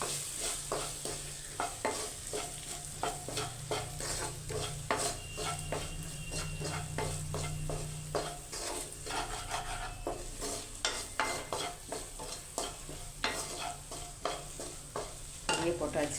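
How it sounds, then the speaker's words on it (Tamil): Sliced okra tossed with spice powder sautéing in a pan, giving a continuous close sizzle broken by frequent rhythmic scrapes and taps of a spatula, no talking. "இப்போ நல்லா பொடியை போட்டு கொஞ்சம் நல்லா வதங்க விடுவோம்"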